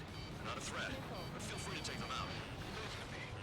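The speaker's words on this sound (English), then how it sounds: "Let's see how those cluster munitions do." Cluster munitions artillery barrage in a video game, heard as repeated crackling bursts and impacts over a constant rumble, mixed with in-game noise and faint voices.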